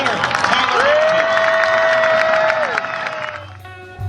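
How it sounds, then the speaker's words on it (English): Arena crowd at an AMA Supercross event cheers and applauds the overall motocross winner, Tyler Bereman, a loud sustained roar with whistles and shouts that cuts off abruptly. "Folks, give him a big round of applause."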